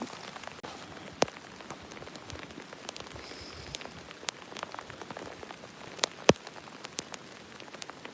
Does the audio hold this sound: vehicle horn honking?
no